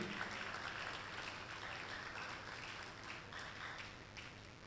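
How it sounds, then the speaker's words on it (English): Applause from the audience at an employment clinic event in Nigeria, honouring a maritime agency director general; a steady, dense wash of clapping that continues evenly throughout, fairly faint and distant. "A round of applause for him."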